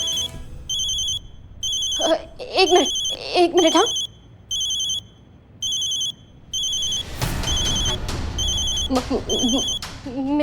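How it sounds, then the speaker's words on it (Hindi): A telephone bell rings in repeated short electronic bursts while a person speaks briefly between rings. "मेरी माँ का फोन है।"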